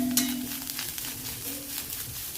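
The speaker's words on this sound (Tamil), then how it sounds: "பாருங்க, இந்த மாதிரி நல்லா ஆயிலே ஃப்ரை ஆகணும் நமக்கு." Oil sizzling steadily in a pan while coconut rice is prepared, a soft, continuous frying hiss with faint crackles, heard alone and fairly close.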